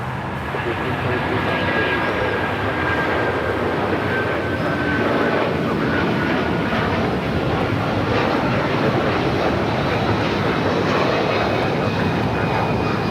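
An Air Canada A330-300 bound for Toronto rolls down runway 25 right at LAX, its jet engines giving a broad, continuous roar that stays strong and steady throughout the takeoff run.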